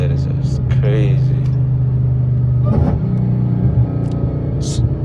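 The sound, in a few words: Dodge Hellcat engine and exhaust through headers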